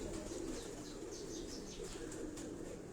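Pigeons on a rooftop loft in Karachi cooing softly in low repeated throaty calls, faint and close, with light chirps and a brief flutter of wings in the background.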